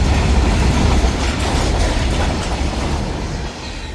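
A train runs past close by beside a road near a railway station, giving a loud, steady rumble and rattle of rolling wagons that eases off slightly toward the end.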